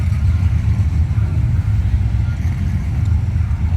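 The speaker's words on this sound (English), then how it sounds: "Here comes Willis for test pass number 2" A drag race car making a test pass at a drag strip, its powerful engine rumbling loudly and steadily from a distance, a deep continuous roar that holds without a clear rise or pause.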